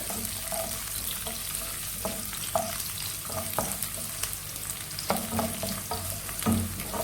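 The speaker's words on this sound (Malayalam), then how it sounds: "ഒരു 15 വെളുത്തുള്ളി നീളത്തിൽ അരിഞ്ഞതും ചേർത്ത് നന്നായി ഇളക്കി മൂപ്പിച്ചെടുക്കാം" Sliced garlic and chopped ginger fry and get stirred in a pan for pickle, a steady sizzle throughout with scraping spoon strokes at irregular intervals, close and alone.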